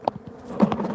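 Invasive bees buzz close by during a bee removal at a home, a dense droning hum with individual insects zipping past, no talk over it.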